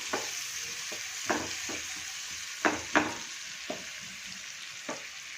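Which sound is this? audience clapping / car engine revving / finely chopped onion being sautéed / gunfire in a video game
finely chopped onion being sautéed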